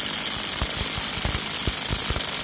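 Tie rod end joint on a 2006 Mitsubishi Lancer Ralliart being pounded loose: loud, irregular metallic impacts repeat over a steady broadband hiss, with no voices.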